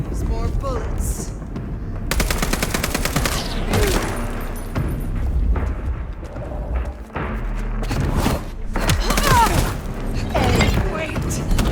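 Gunfire in the video game Vampire: The Masquerade – Bloodlines 2, with rapid bursts and single heavy shots crackling close and loud, broken by short pauses and booming impacts.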